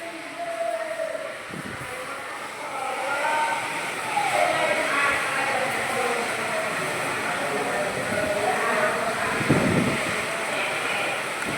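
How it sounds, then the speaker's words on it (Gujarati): A strong windstorm with rain blowing through trees in a village, heard as a loud, steady roaring wash of wind and rain that swells slightly partway through and continues unbroken. "ફૂલ વાવાઝોડું મિત્રો."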